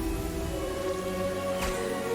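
Steady rain falling in Hogwarts Legacy, a continuous hiss and patter layered over low tonal game ambience, with no talk.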